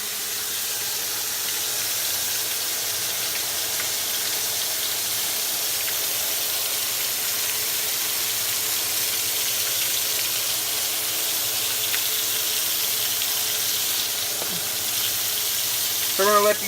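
Flounder frying in very hot grease gives a steady, close hiss and crackle that holds at one level throughout, with a few faint pops and a brief stir near the end.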